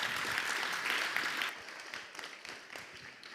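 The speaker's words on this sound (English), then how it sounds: "Please give him another round of applause and a huge thank you." Applause from a conference audience at a Python conference in a Greek auditorium, dense clapping at moderate level that thins and fades into scattered claps over a few seconds.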